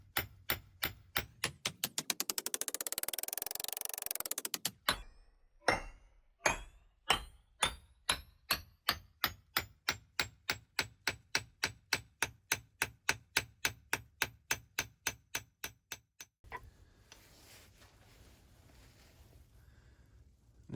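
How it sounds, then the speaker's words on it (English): Hot Damascus steel is hammered on an anvil while forging a custom fighting knife: a long run of sharp, ringing metal strikes in a steady rhythm, with a brief grinding whoosh near the start and a quieter pause toward the end. "I'm going to start, like I said, hammering on the top of this right next to the"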